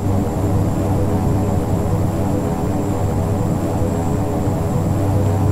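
A Beechcraft 1900D turboprop in the X-Plane 10 flight simulator taxis with a steady, loud propeller and engine drone, unbroken and even, with no voices.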